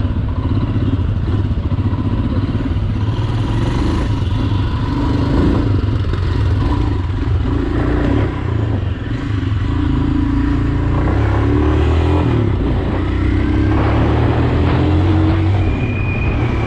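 A Royal Enfield Himalayan fuel-injected motorcycle with ABS drones steadily while being ridden, its engine noise blending with heavy wind rush that stays loud and constant throughout, with no voices.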